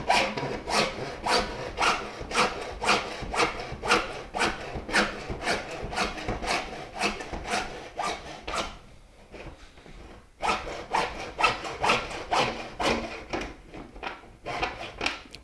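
Hand sawing through an old plastic shoe model, close and steady back-and-forth rasping strokes in a regular rhythm, pausing for about two seconds before the strokes resume at the same pace.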